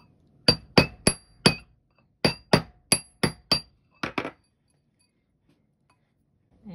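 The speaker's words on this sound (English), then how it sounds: "A nice hefty hammer to pound this nice and round. Put some hammer marks in it too." Metal hammer striking a steel washer ring on a mandrel over a steel block, two bursts of sharp ringing clinks, four and then five evenly spaced blows, followed by two lighter taps, loud and close with no talking.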